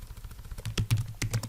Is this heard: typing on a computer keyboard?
yes